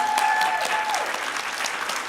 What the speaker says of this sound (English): big hand of applause for them